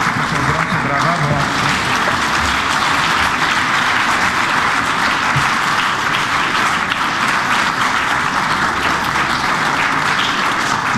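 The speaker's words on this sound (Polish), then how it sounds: "Proszę o gorące brawa" Loud, sustained applause fills a hall at a secondary-school graduation gala, dense clapping from a large crowd holding steady throughout, with some crowd voices mixed underneath.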